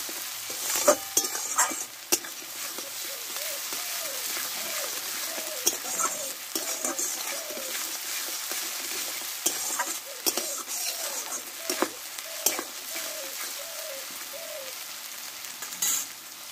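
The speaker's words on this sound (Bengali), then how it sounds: "আর এখানে নিয়েছি 1 চামচ আদা বাটা আর 1 চামচ রসুন বাটা, আমি এটা দিয়ে দেবো। এই একসঙ্গে এবার কষে নেবো একটু।" Ginger and garlic paste sizzle steadily in hot oil in a pan while being stirred, with a constant close frying hiss broken by spatula scrapes and clicks and no talking.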